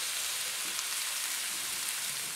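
Celery and other vegetables cooking in a pan on medium-low heat, a soft continuous sizzle and crackle, even and steady, with no talk.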